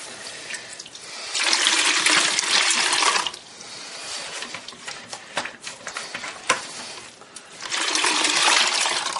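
Water is squeezed from a sponge into a bucket while emptying a toilet bowl during a toilet replacement, giving bursts of splashing and trickling that alternate with quieter dripping pauses, close by.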